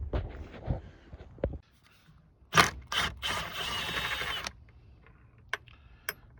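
Ratchet wrench working a 12 mm bolt on a 2016 Hyundai Sonata battery, a quick close burst of clicking ratchet strokes, then scattered metallic taps and handling noise.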